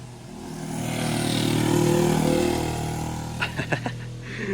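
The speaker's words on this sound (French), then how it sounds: "C'est une moto ça, c'est quoi?" A motor vehicle engine swells as it passes by and fades, followed by a few sharp clattering knocks near the end.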